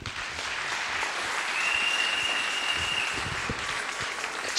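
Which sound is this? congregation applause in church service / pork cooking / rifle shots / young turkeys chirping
congregation applause in church service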